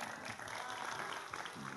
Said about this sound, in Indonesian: tepuk tangan untuk Pak Dani